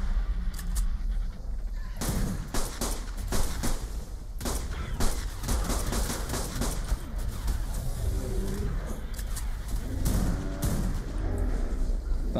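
Gunshots in the video game ARK Genesis ring out as clusters of sharp cracks, mostly in the first few seconds and again near the end, over a dense, constant low rumble of game ambience.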